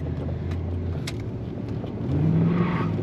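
A 1990 Chevrolet 1500 454 SS pickup with a big-block V8 accelerates hard, engine roar climbing and thickening as one rear wheel breaks loose, heard steady and close from inside the cab.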